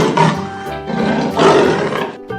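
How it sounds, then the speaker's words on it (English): A leopard roars loudly and continuously at close range, a rough, sustained growl with two swelling bursts and no talk over it. "leopard"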